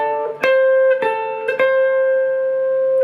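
An electric guitar plays a blues lick: a few clean picked notes ring out and sustain, close and clear, with no talking.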